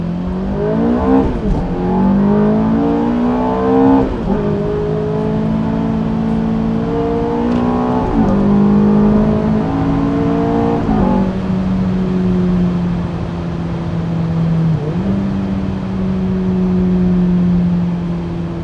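A Ferrari F430 accelerates and shifts up through its gears, the engine note climbing repeatedly then dropping at each change before settling into a steady cruising tone, loud and close with no talk.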